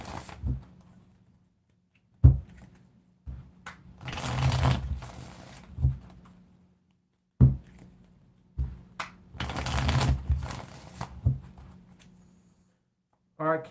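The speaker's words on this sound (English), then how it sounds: "I'm going to make sure I get a good shuffle with this deck before we move on here." Two soft, papery riffling bursts from a deck of tarot cards being shuffled, separated by quiet handling taps and clicks, faint and close.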